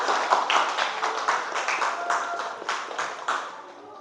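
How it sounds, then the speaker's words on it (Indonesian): A class of students claps together in a biology lesson, a quick run of loud, uneven claps close by that thins out and fades toward the end, with no talk over it. "Tepuk tangan dulu."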